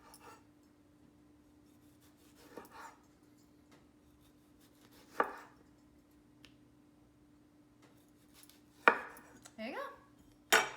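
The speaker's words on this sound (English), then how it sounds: "prick it and then slice, which might make it easier" A knife slicing a fresh tomato on a cutting board, several sparse sharp cuts and taps against the board with quiet gaps between, the final few close together.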